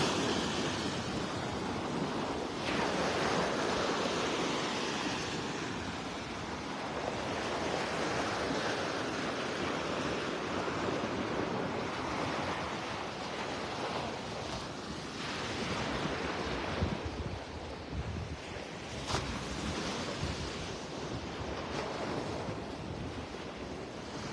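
Steady ocean surf washing ashore on Vanderbilt Beach in North Naples, Florida, a continuous broad roar with gentle swells and wind buffeting the microphone throughout.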